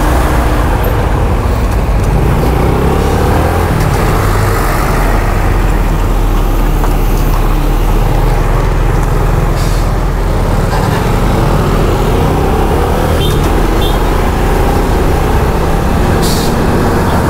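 Trucks and other traffic rumble past on a road in Santa Fe, Nueva Vizcaya, a steady, loud, continuous roar of heavy engines and tyres that swells slightly as vehicles pass, with no talk over it.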